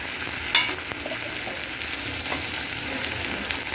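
Cumin paste frying in a pan for a chicken curry, a steady soft sizzle with occasional stirring scrapes and pops, fairly quiet and close, no talking.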